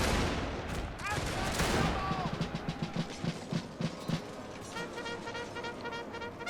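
Musket volleys crackle in a Total War battle of the Anglo-Zulu War, as Zulu warriors fire on charging British regiments: a dense opening fusillade gives way to a steady run of separate rifle shots, loud and close, with game battle noise underneath.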